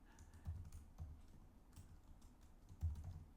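Rapid typing on a computer keyboard, a steady run of quiet key clicks with a few heavier strokes, close and alone with no talk.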